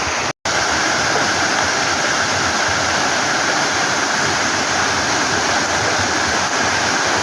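Balite Falls in Amadeo, Cavite roars steadily up close, a loud, unbroken rush of falling water with a brief dropout near the start and no voices.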